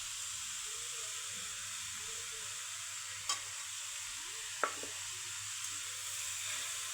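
Cauliflower fries in a pan as filling for veg momo, giving a quiet, steady sizzling hiss with two sharp utensil taps against the pan partway through.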